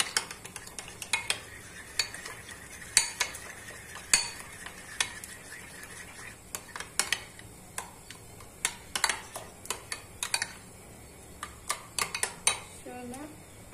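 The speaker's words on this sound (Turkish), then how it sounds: "İyice karıştıralım." A spoon stirs a grated garlic, black pepper and salt mixture in a bowl, giving a steady run of sharp clinks and scrapes against the bowl's side, moderately close and without talk.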